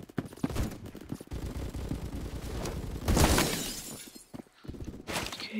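Gunfire in Roblox Phantom Forces rattles out in rapid bursts of sharp cracks aimed at the player, with a loud, dense volley in the middle and more shots toward the end.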